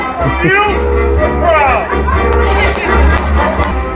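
A large crowd on a cruise ship cheers and hollers in a loud, sustained roar during a military tribute to Marines, with raised voices carrying through the noise.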